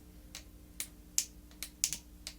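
A Hasbro Marvel Legends Wolverine Brood action figure's plastic waist joint is turned by hand, giving about seven faint, sharp clicks at uneven intervals, recorded close up in a quiet room.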